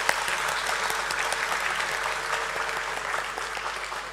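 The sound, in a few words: applause for the chairman on stage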